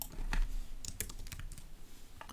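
Someone types a comment on a computer keyboard in a quiet room, producing a quick, irregular run of close, crisp key taps with one heavier thump near the start and no speech.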